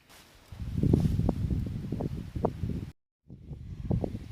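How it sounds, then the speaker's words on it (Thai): Strong wind gusts through leaves nearby, producing loud, uneven rustling bursts that swell and fade, with a brief full dropout before the rustling resumes. "ลมแรง ลมแรง"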